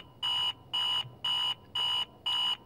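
An alarm ringing in the video game Virginia, a steady electronic buzzing tone that repeats in five even pulses of about a third of a second each, moderately loud with no voices.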